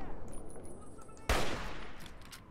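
Gunfire in the video game Fallout 3: one sharp, loud blast about halfway through, with a brief fading tail over quiet background game ambience.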